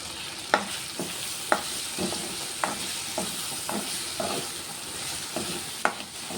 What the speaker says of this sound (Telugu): ఇప్పుడు ఇందులో అల్లం ఎల్లిగడ్డ వేసుకుంటా కొంచెం ఇది కొంచెం అల్లం ఎల్లిగడ్డ వేసుకుంటున్నా